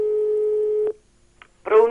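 A telephone tone rings out steadily during a prank call to a radio show, one long sustained beep followed by a silent gap, then a voice begins speaking at the end.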